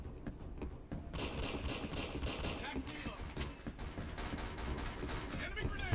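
HK416A5 rifle fire in the shooter game Black Squad rattles out in rapid automatic bursts over continuous game noise, loud and close, with a voice talking through it.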